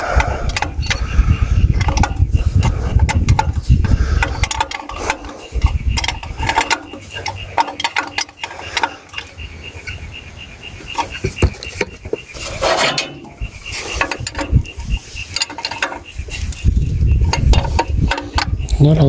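Metallic ratcheting and clinking of a wrench snugging exhaust nuts on a Case backhoe, close and busy with uneven scraping and gear-like clicks, occasional faint voice underneath.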